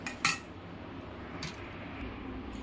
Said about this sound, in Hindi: अब कढ़ाई चढ़ाती हूँ।